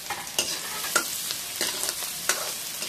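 Onion with ginger and garlic paste sizzles in a hot pan, a steady frying hiss broken by four sharp spoon-scraping strokes at roughly even intervals, close and clear.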